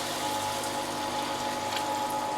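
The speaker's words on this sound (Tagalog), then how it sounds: "So, maglagay na tayo ng tubig." Water running steadily into a cooking pot for chicken tinola with carrots and cabbage, a continuous close rushing pour with no breaks and no voices.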